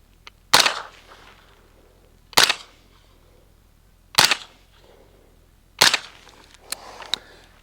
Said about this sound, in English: This time we're shooting some subsonic ammunition.